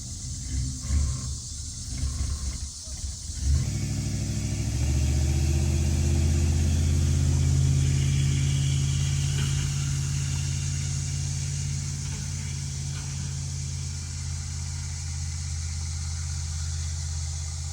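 The engine of an old RV that sat for over two decades rumbles steadily and loudly as it is driven, a continuous low drone after a few seconds of rougher noise, with no talk.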